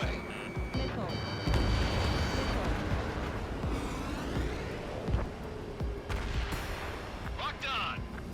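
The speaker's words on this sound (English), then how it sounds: "Missile away. Missile. Missile." Missiles fired at enemy jets in the flight game Ace Combat 7: Skies Unknown, with launches and booms over a steady roar of jet engines, plus lock-on warning beeps and radio chatter.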